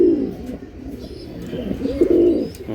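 A racing pigeon hen coos close by in a low, throaty rolling call that repeats over a few seconds. Faint chirps sound in the background.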